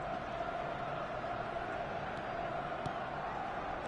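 Stadium crowd noise in the eFootball video game, a steady, distant roar of fans that stays even and fairly quiet throughout with only faint bumps rising out of the wash.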